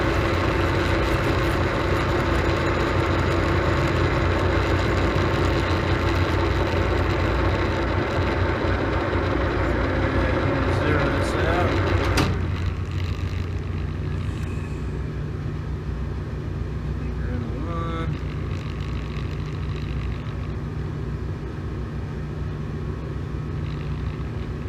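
A metal lathe, a Monarch, hums steadily while turning machine skate pads at about 273 RPM, a continuous mechanical drone with a faint whirring pitch that eases slightly partway through.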